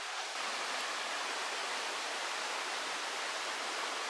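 River water in Japan rushes steadily at an even, continuous level, a broad hiss with no breaks and no voices.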